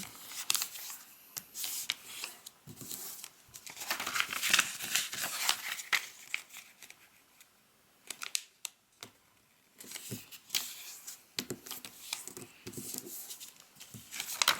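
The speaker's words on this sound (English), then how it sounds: "we're going to fold in half both ways as well" Sheets of paper are folded and creased by hand for an origami buck, giving close crinkles, taps and soft rustles in irregular bursts, with a quiet pause midway.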